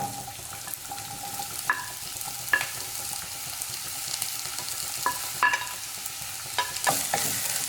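Onions being added and fried in a pan with ginger and garlic for a tapioca egg masala, with a soft continuous sizzle and scattered spatula clinks and scrapes at close range.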